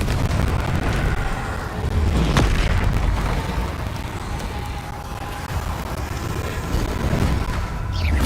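Bombarda and Confringo spells blast in Hogwarts Legacy combat, producing repeated deep booms and bursts over a dense rumbling game soundscape.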